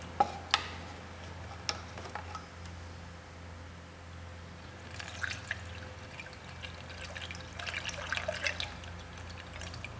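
A 50-50 antifreeze mix is poured into an empty GM 3800 engine block. A few isolated drips come first, then a soft, continuous liquid trickle takes over for the second half.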